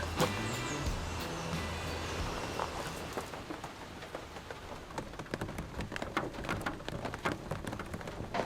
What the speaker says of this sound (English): It's starting to rain a bit.